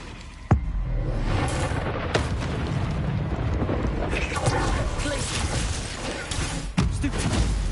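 Bombarda spell explosions in the video game Hogwarts Legacy: a sharp blast near the start and another late, over a dense, loud wash of rumbling battle noise.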